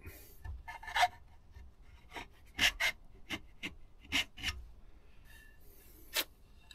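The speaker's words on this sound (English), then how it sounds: "I'm gonna have to use a file, I think." A metal file rasping against a knife part in a series of close, separate scraping strokes, some quick pairs and some single, with quiet gaps between them.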